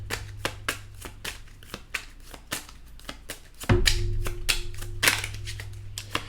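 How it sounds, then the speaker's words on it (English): Tarot cards are shuffled by hand in a steady series of crisp riffling snaps, close and fairly loud, with a low hum and a brief thump in the middle. "And I'm shuffling to the side here"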